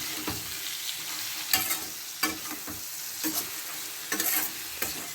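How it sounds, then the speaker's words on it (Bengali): A spoon scrapes and stirs raw mango with turmeric and salt in a frying pan over a steady sizzle, with irregular clinks and scrapes repeating every second or so. "হলুদ নুন দিয়ে ভালো করে নাড়াচাড়া করবেন"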